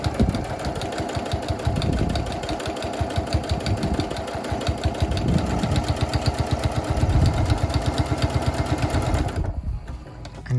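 A sewing machine runs a top stitch down a rough fabric edge, its rapid needle chatter steady and close for about nine seconds before stopping abruptly near the end.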